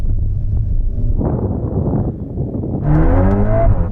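A tuned VW Golf R accelerates hard in a drag race, engine roaring loud and close with wind buffeting the microphone, then a gear change at about three seconds lifts the revs into a rising, harmonic-rich pull.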